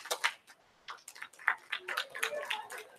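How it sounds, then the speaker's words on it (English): A small gathering of students gives a quiet golf clap at a senior kickoff, sparse, soft and separate claps spaced unevenly over a few seconds. "Golf clap."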